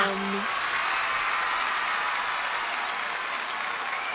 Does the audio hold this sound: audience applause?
yes